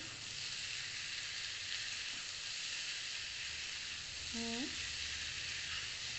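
Eggplant pieces fry in oil in a pan with a steady, even sizzle that carries through the whole stretch, fairly soft and close, with one brief tonal squeak partway through.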